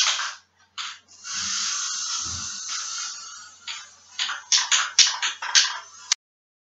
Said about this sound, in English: And then when you spray, you should be left with a pattern where the paint has gone through your lace.